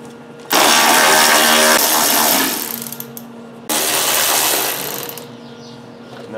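A ratchet spins out half-inch bolts from a radiator fan shroud in two loud, close bursts of fast clicking, each lasting a couple of seconds, with a short pause between them.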